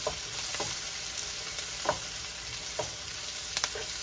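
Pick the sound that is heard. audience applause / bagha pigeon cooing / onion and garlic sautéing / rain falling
onion and garlic sautéing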